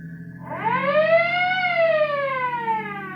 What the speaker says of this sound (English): Use your siren.